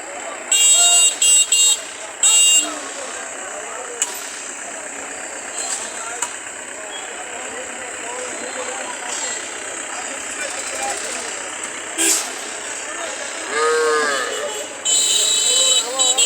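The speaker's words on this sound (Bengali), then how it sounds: "আসছে বাজারে গাড়ি ভর্তি গরু।" A truck loaded with cows pulls into a busy rural cattle market. A steady engine drone runs beneath bursts of animal calls and crowd noise, with people talking nearby.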